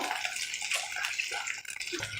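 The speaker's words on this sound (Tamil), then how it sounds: "தண்ணி சேர்த்து மிக்ஸ் பண்ணிக்கிடுறேன்" Water is added to a coconut-free chutney in a pan off the heat, making a steady hissing, splashing stream that runs throughout at moderate volume.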